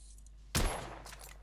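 A single sharp gunshot from The Order: 1886 cracks out loud and close, its echo tailing off over about a second with no talk.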